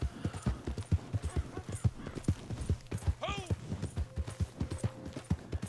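A horse gallops in Red Dead Redemption 2 as a rapid, steady run of close hoofbeats, with a brief whinny partway through, while someone talks over it.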